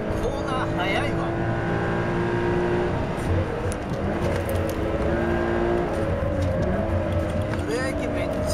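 A Toyota 86 GR sports car laps a race circuit, its engine note climbing and falling through the gears at high speed under continuous talk from the driver and passenger.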